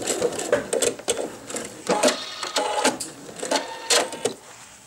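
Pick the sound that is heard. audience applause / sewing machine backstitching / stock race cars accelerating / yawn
sewing machine backstitching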